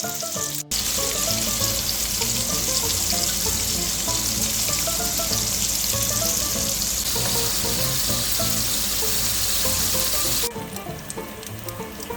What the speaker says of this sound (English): Add bacon to the wok and render them down until they are crisp.